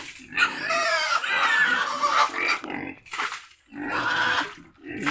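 Pigs on a farm in Negros Occidental, Philippines, give a run of grunts and squeals in several bursts with brief gaps between them, close by, with chickens clucking faintly in the background.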